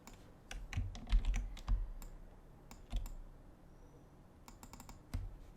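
Computer keyboard keys tapped in short clusters of sharp clicks while copying and pasting with shortcuts, close and fairly quiet, with brief pauses between the bursts.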